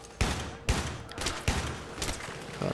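Gunfire in the video game Battlefield 3 during a co-op mission in France: several sharp shots crack out at irregular intervals over a dense background rumble of game noise, with no speech.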